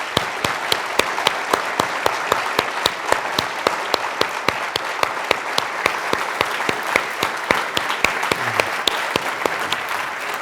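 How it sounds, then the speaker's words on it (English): Sustained applause from a seated audience at the 2007 Goldsmith Awards ceremony honoring three men, dense steady clapping with some louder individual claps, continuing evenly throughout. "I would like to close with just simply a round of applause for 3 remarkable men"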